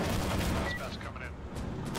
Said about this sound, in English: Rockets incoming.